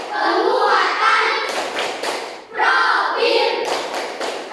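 During a classroom ice-breaker, Indonesian pupils perform the Tepuk P5 clap chant. Patterned rounds of clapping break up loud group chanting, with short pauses between phrases.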